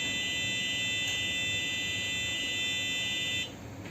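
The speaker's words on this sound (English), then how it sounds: "With smoke, the buzzer makes the sound." Steady, piercing electronic tone from an Arduino fire alarm buzzer, loud and close, sounding continuously and then cutting off near the end, with no voices.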